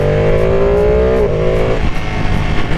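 Ducati Panigale V2 accelerating hard with a quick shifter, a loud close engine wail climbing in pitch, then a sharp upshift cut and the rise continuing in the next gear, no voices.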